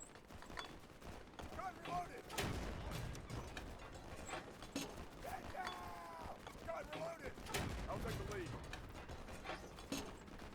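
In Easy Red 2, an 88 mm gun fires flak shells: two heavy, sharp booms several seconds apart, with metallic clanks and ratcheting reload noises in between against busy battle background.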